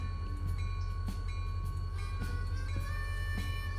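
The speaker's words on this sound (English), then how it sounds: "That slammed the brakes on pretty hard." A locomotive in the Railroader train simulation game rolls with a steady low rumble and hum, punctuated by repeated metallic clanks and hissing bursts as the brakes clamp on hard.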